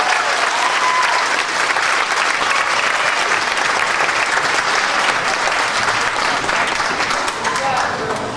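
Sustained, loud audience applause fills a dance competition show in Auburn, steady dense clapping from a large crowd with faint voices mixed in throughout.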